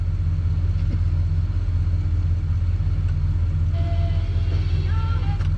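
A Dodge D100 pickup's engine idles in a barn with a steady low rumble that holds throughout, and a few faint higher tones and light clicks sit over it.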